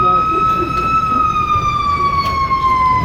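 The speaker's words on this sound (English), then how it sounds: "I'm just taking a minute until the siren passed" An emergency vehicle siren passes outside a county board meeting room: one loud, steady wailing tone drifts slowly lower in pitch throughout, with faint room noise underneath.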